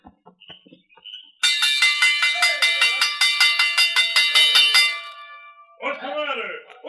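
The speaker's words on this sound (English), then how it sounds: "Now ring the farm bell or rout out the men." A farm bell is rung rapidly to call the men in from the fields, a loud, fast series of ringing clangs lasting a few seconds, with a voice speaking briefly before and after.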